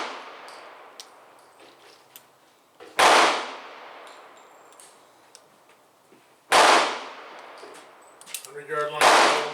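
Two sharp, loud gunshots from an air rifle firing MP hollow-base bullets at an outdoor range, each cracking out about three and a half seconds apart and ringing into a long decay, with a faint clatter after the second.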